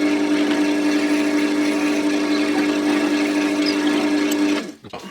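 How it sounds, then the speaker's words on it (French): A drill bores a pilot hole into a piece of wood for a demountable wooden fir tree, a steady close whine with a constant motor tone that winds down abruptly near the end. "je vais percer légèrement cette pièce là. Je fais un avant-trou"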